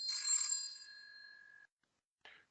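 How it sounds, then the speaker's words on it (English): A telephone rings with a bright metallic bell trill that fades out over a second and a half, then after a short silence one more brief ring sounds. "Hold on, I hear a phone call."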